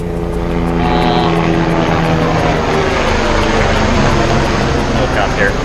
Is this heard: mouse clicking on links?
no